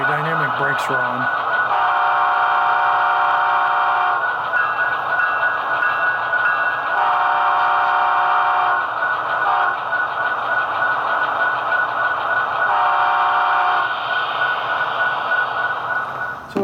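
An Athearn SD70ACe model locomotive with a Tsunami sound decoder and dynamic brakes on gives a loud, continuous bass-heavy engine drone with a brief tonal blip at the start. The pitch steps slightly a few times over the run.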